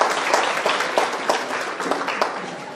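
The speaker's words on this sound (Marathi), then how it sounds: "यांना जोरदार टाळ्या होत्या त्यांच्यासाठी." A crowd applauds at a Gadi Lohar community association's state-level award ceremony in Kalyan, a full, continuous wash of clapping with slight pulsing swells, close and fairly loud throughout.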